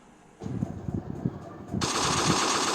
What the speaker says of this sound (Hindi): आतंकी लगातार गोलियां चलाते रहे